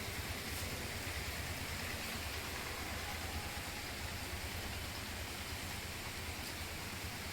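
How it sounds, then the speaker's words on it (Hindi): Heavy rain pours down in a dense, even wash of hiss that continues unbroken at a steady level, with no one speaking. "बारिश हो रही है काफी तेज, ये देखिए"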